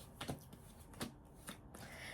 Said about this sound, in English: Now, I did a lot of shuffling